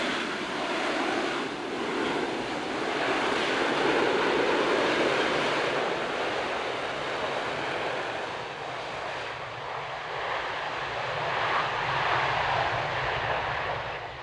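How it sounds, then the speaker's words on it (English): An AV-8B Harrier jet roars steadily at a distance at an air show, its whooshing engine noise swelling and easing with a wind-like rush, no voices. "from your United States Marine Corps, the AV-8B Harrier."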